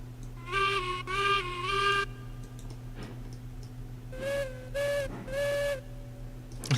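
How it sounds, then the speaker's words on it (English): Harmonic, slightly wavering steam-style train whistle from a train simulator game on the CA&U line, sounding waterlogged, blown in two long blasts then three shorter ones over a steady low engine hum, fairly close. "10-mile whistle sounds waterlogged."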